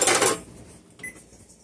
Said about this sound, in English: I'm going to set the timer on my stove here